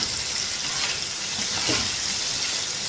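Goat liver (kaleji) being mixed on a hot tawa with salt and lemon juice produces a loud, unbroken, dense sizzle with faint scraping from the stirring, close up and with no voices.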